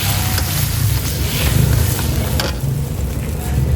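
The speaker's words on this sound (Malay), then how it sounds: "Ni goreng panas-panas ni." Food fries in hot oil at a Ramadan bazaar stall in Taman Ria Jaya, Sungai Petani, Malaysia, a loud continuous sizzle heard close up over a low rumble of crowd and traffic.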